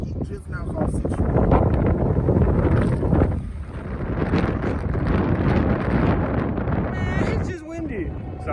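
Wind buffets the microphone at a railside spot in Muncie, a loud, steady rushing roar that barely lets up for the whole stretch, with a brief voice-like sound near the end.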